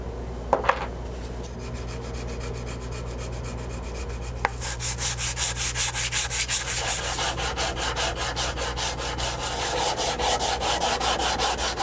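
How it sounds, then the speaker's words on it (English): After a few quiet handling noises, steady rhythmic sanding strokes rasp back and forth across a wooden Traditions Crockett muzzleloader rifle stock, close and loud, continuing without pause and with no voices. "start doing some sanding on it"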